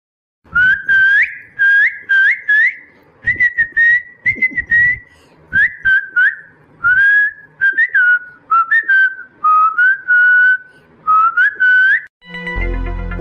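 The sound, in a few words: someone whistling on the street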